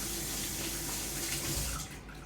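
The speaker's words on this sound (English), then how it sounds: "I can just rinse it off." Tap water runs steadily into a sink as something is rinsed under the stream, a close, continuous rushing splash that eases off slightly near the end.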